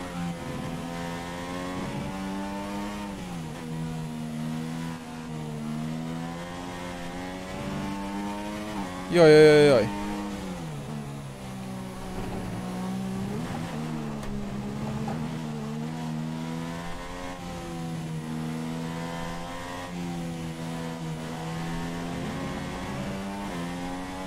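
Engine of a Formula 1 race car in F1 2016, a steady high-pitched whine that rises and falls with shifts through the gears, running continuously close up with one short louder burst partway through and a brief exclamation over it.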